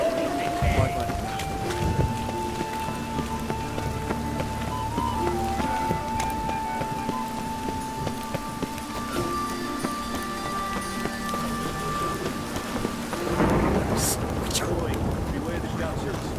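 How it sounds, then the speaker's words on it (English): Steady rain patters in a Witcher 3 game scene, blending with tonal music and occasional voices; the downpour stays constant and fairly loud throughout. "Raining again."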